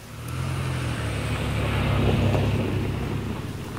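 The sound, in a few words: tractor pulling a trailer to the lake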